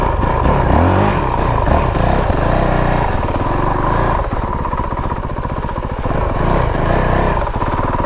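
Engine of a 2022 Honda CRF450RL dual-sport motorcycle being ridden around town, a steady loud close drone with rising and falling revs and gear changes throughout, no voices.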